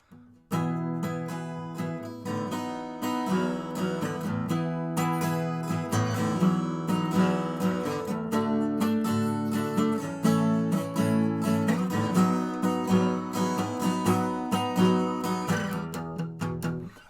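Acoustic guitar plays the interlude of a song alone, plucked notes and strummed chords ringing steadily at moderate volume with no voices.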